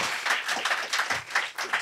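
Applause from the studio audience of a Spanish-language game show, a dense burst of clapping with rhythmic surges over nearly two seconds, close and fairly loud.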